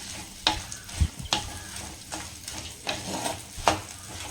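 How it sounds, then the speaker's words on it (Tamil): Garlic and turkey berries sizzle in oil in a clay pot, with a spoon stirring and scraping against the pot several times amid the steady frying crackle. "பூண்டும் சுண்டக்காயும் நல்லா ரோஸ்ட் ஆகிட்டு இருக்குது"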